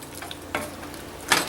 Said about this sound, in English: Let's stir that through.